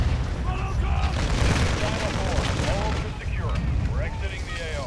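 Call of Duty: Modern Warfare II DMZ combat on PS5 brings a dense, loud wash of booming gunfire and explosions, steady throughout, with shouting voices layered over the din.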